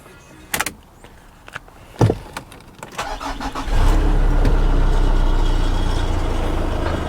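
A Nissan Navara pickup has a few clicks and clunks, then the starter catches and the engine fires, settling into a loud, steady idle.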